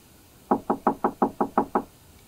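Eight quick, evenly spaced knocks on a hotel room door, close and crisp, with quiet room tone before and after.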